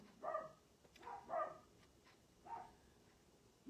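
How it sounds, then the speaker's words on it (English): Dachshunds bark out in a yard, four or so short yapping barks spaced irregularly, faint and somewhat distant. "Dachshunds are notorious for barking a lot"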